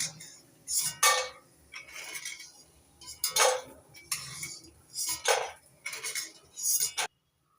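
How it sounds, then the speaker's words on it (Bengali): A utensil scrapes and clinks against a pan while fried peanuts are scooped out, about eight distinct metallic scooping strokes in an irregular rhythm, close and fairly loud, with quiet gaps between. "বাদামগুলো ভেজে নিয়েছি এবার তুলে নিচ্ছি"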